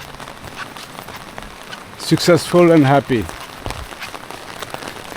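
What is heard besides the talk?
rain falling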